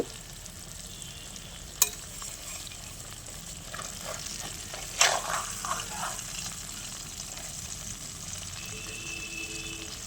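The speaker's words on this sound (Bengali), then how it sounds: "তো বাকি মাছগুলো আমি একই রকম ভাবে ভেজে নেব" Hilsa fish pieces frying in a pan give a steady, moderate sizzle throughout, broken by a few sharp clinks and brief utensil scrapes near the middle; no one speaks.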